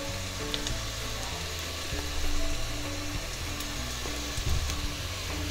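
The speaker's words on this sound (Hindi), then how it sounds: "इन सारी चीज़ों के साथ मिक्स करते हुए फ्राई करेंगे ताकि मैदे का जो कच्चापन है वो चला जाए।" Carrots and flour fry together in a pot for Turkish chicken soup, making a steady, moderate sizzle over a low, tonal background hum, with a few soft stirring knocks.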